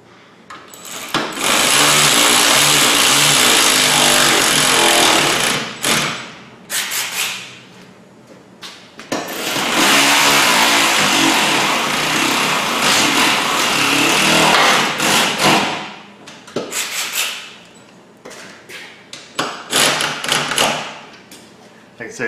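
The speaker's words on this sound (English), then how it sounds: "be careful tightening on this impact, or this ratchet is very, very weak, and I just babying the throttle on it" Impact wrench driving bolts on a Jeep WJ rock slider, with long loud bursts of buzzing power-tool noise separated by shorter pulses and pauses, close to the listener.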